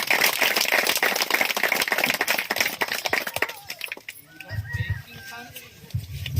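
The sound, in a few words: audience applause for a speaker coming on stage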